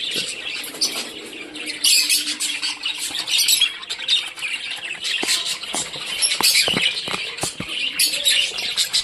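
Budgerigars in a clay nest pot give loud, close, continuous squawks and shrill chirps, with scattered sharp scratching and fluttering sounds among them.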